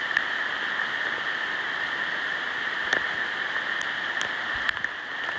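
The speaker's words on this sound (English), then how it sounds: "It's just hailing like crazy. The whole trail's just covered in hail." Hail pelting a hiking trail and the trees overhead, a dense, steady hiss of icy patter with a few sharper individual impacts standing out, close and continuous with no talking.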